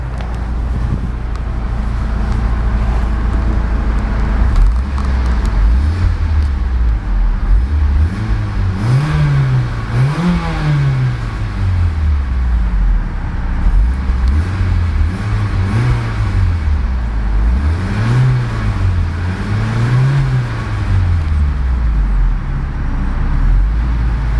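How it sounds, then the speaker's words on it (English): A 2011 Mitsubishi Lancer Evolution X MR's turbocharged inline-four engine revs up and down repeatedly through the gears while driving, its exhaust note rising and falling over steady road and wind noise. "take a listen to the soundtrack of that turbo inline 4 and see what kind of noise it produces"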